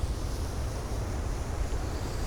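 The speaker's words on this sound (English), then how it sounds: "just not happening due to the wind. It's like 60-mile-an-hour gusts" Strong wind gusting around 60 miles an hour at Sandymouth roars and buffets close against the microphone, a dense, steady rumble with no voices.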